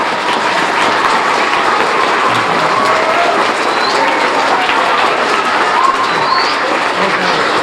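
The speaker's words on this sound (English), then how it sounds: "One more round of applause for Mr. Khazan." Loud, dense, sustained clapping from a large crowd, continuous and even throughout with no pauses.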